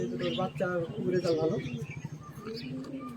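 Soft coos and brief chirps from Andhra pigeons rise and fall over close background chatter, with people talking throughout.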